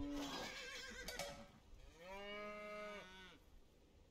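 Cattle mooing in Age of Empires II: Definitive Edition, a short low call followed by a long drawn-out moo of about a second and a half, clear and close with no talking over it.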